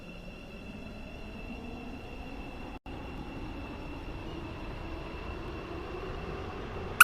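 Metro train running on Stepford County Railway in the Roblox game, a steady rumbling ride with a faint high whine throughout, one brief dropout, and a sharp click at the very end.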